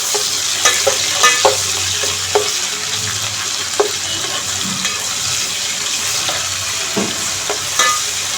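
Ginger garlic paste with cardamom and shahi jeera for veg biryani stirred in a hot pan: steady loud sizzling with repeated sharp scrapes and clinks of the spoon, no voices.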